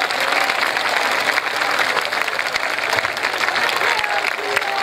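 An audience at a Shri Ram Katha religious discourse claps loudly and continuously for several seconds, a dense, sustained wash of applause close to the microphone.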